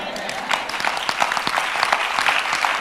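A church congregation at a French-language convention claps together in a dense, steady burst of applause, continuous and fairly loud throughout, with a voice faintly underneath.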